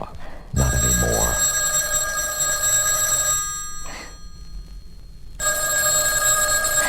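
An old telephone bell rings in a 1970s radio suspense drama, loud and close, in long sustained metallic bursts separated by short silent gaps. Nobody speaks.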